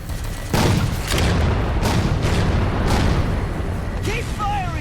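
Railgun fire at Phantoms in Halo 4 booms repeatedly amid heavy battle noise, several loud blasts over a dense roar of gunfire and explosions, with voices shouting underneath.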